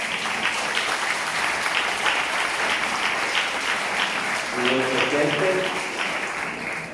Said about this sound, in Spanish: un aplauso de tu pueblo de Izalco